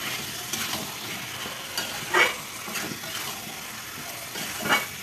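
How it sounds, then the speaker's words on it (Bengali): Marinated chicken and potatoes being stirred in masala in a frying pan for chicken kosha, with soft scraping strokes and a steady low sizzle, a few louder stirring scrapes standing out. "ভালো করে মিক্স করে"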